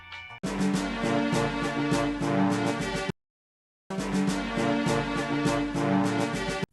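Dark World theme music from a Zelda video game, a full orchestral phrase heard twice with a short gap of silence between the two passes, dense and loud without any voice.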